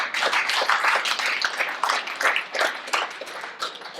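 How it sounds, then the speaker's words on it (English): An audience at a business conference session on content and advertising environments claps together. The applause is a steady, dense patter of many hands lasting several seconds at moderate loudness, with no clear talk over it. "round of applause for that"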